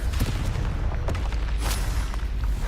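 The Confringo spell in Hogwarts Legacy blasts with a heavy booming explosion, rumbling continuously with sharp cracks layered on top, loud and close throughout.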